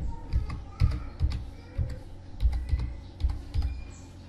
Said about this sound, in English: so let me type a password.